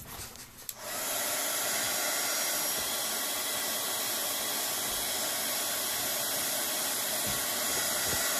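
A heat gun blows steadily on glue holding bound pages together, switching on after a brief quiet moment and then giving a loud, continuous close-up rushing hiss that holds unchanged to the end.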